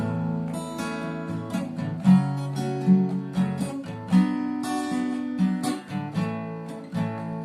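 Guitar strumming through a short chord progression, chords changing every second or so and settling back on a home chord, played alone without talk.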